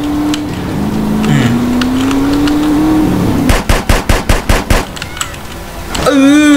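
A revving vehicle engine in GTA San Andreas roars with a rising pitch, then breaks into a burst of rapid, evenly spaced staccato pops before the engine drone returns loudly at the end.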